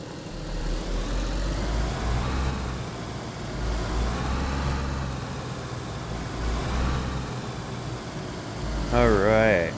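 A car engine in the video game DayZ drones steadily while driving, swelling and easing as the speed changes, with a voice briefly heard near the end.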